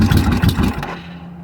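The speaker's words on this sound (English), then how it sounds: "let's try and start it with the choke" A rough engine with the choke on cranks and clatters close by in a short burst, then fades into a low, steady hum.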